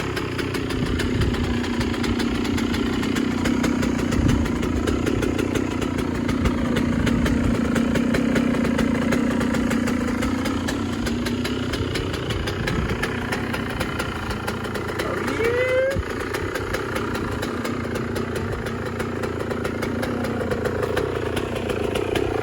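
A cold Yamaha YZ125 two-stroke dirt bike engine idles close by with a steady, slightly uneven burble and a brief blip partway through, running alone with no talk over it.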